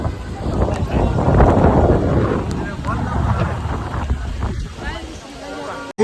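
A boat ride on the water in Mumbai near the Taj hotel after rain, with a broad wash of wind and engine-and-water rumble, while people talk over it.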